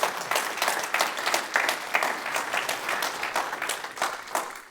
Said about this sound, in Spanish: ¿Le puedes dar un aplauso fuerte a Jesús?